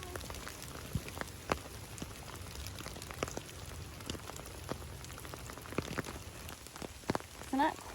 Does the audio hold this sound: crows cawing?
no